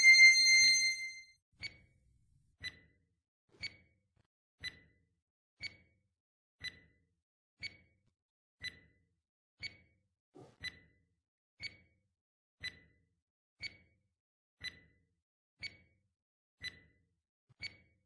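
A countdown timer beeps steadily about once a second, short faint evenly spaced pips running on alone in near silence after a brief louder sound at the start.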